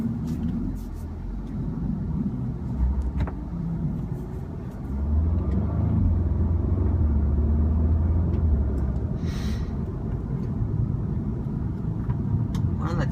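A 2015 Audi S3 is driven through a tight turn, its engine and road rumble swelling midway and staying steady, heard from inside the car with a person talking over it.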